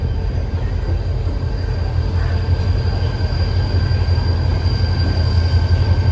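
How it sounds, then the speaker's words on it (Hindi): A Yatra special pilgrim train carrying Hindu and Sikh travellers to Nankana Sahib pulls away, its steady low rumble and wheel noise rolling continuously and fairly loud throughout. "अब ट्रेन रवाना होगी।"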